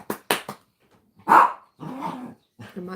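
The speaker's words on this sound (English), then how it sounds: "The dogs in the neighborhood are barking their heads off." Several neighborhood dogs bark in short sharp bursts, a quick cluster of three loud barks followed by a longer, rougher bark and more barking after, fairly close and with no talking over it.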